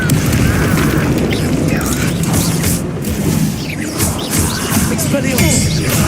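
In the Hogwarts Legacy video game, an Incendio fire spell erupts in a loud, continuous roaring blast with rumbling booms and crackling bursts, dense and close throughout.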